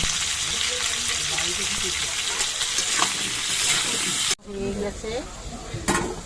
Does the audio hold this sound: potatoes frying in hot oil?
yes